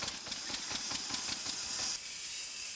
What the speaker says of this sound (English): Cranking the sawmill to life